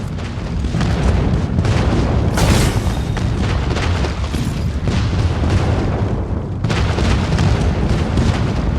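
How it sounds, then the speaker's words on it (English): Loud airstrike explosions rumble in a 10v10 team deathmatch video game, a dense, continuous barrage of deep booms with bursts near 2.5 and 6.7 seconds, and no talk over it. "Enemy airstrike incoming."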